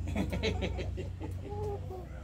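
A chicken clucks close by in a short series of soft, throaty clucks, followed by a few brief higher-pitched calls, with a low background hum underneath.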